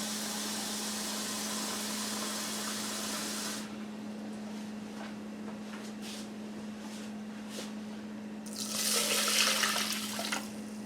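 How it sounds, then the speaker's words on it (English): Water pours into a rice cooker, rushing and splashing steadily, then thins to a softer trickle before a louder gush near the end, with a constant low hum underneath. "And to that, I'm going to add 2 cups of water."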